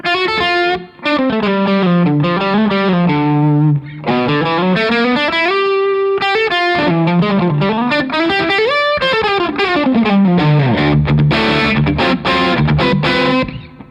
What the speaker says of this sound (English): here's the Les Paul into the Revv. And adding the tilt boost, same settings as before